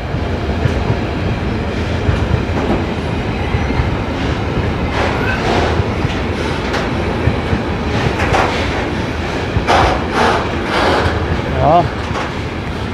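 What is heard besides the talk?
train passing with a wheel flat spot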